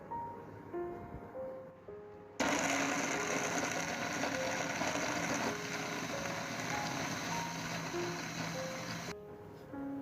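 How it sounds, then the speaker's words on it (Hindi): Kitchen blender whirring loudly as it purees raw mango pulp for a mango squash, a steady mechanical drone starting abruptly after a quieter lead-in and cutting off near the end. "अब इनको हम 1 बाय 1 ब्लेंड करेंगे"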